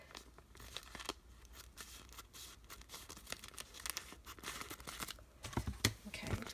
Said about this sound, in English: I want to cut below the line that we just created.